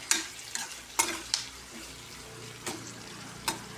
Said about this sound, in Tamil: வெங்காயம் நல்லா வதக்கணும்